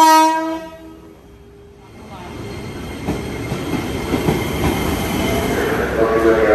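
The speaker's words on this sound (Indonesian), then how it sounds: "Ini kereta apinya." A commuter train pulls into Lenteng Agung station, its rumble and wheel noise building from quiet into a loud, steady roar close by, with a brief horn-like tone near the start.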